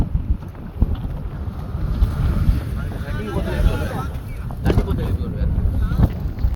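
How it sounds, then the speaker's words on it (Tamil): A fishing boat motors out to sea, its engine a steady low rumble under heavy wind buffeting the microphone and the wash of waves, continuous and close throughout. "அப்படியே கம்பான் போய் கொண்டு இருக்குது"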